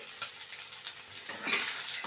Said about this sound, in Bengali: আমার এটা কিন্তু ভাজা ভাজা হয়ে গেছে আমি আরেকটু ভাজবো মানে লাল লাল করে নেবো